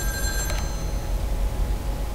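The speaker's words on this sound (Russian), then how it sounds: "Звони телефон." A telephone rings once in the video game Lake, a short bright electronic trill near the start that then fades, over a steady low background hum with no talking.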